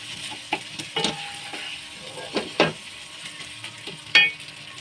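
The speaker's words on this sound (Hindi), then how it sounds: "मैं मक्खन से अंडा तल रही हूँ ये नूरपुर का बगैर नमक वाला मक्खन है" An egg frying in unsalted Noorpur butter in a pan, with a soft continuous sizzle broken by several sharp spatula scrapes and taps against the pan, close and clear with no talking.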